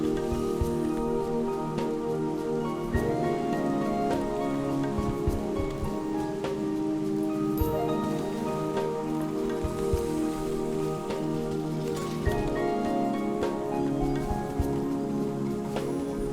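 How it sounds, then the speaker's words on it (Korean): Rain falls steadily in the father-daughter video game Sally's Law as a soft, continuous hiss laid under gentle looping game music, with occasional brief clicks. "비가 오네"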